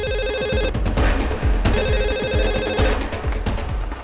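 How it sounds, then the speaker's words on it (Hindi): A telephone rings repeatedly in regular bursts, loud and close, continuing without anyone picking up. "इतनी बार फोन ट्राई किया है, रिंग जारी पर उठा नहीं रहे।"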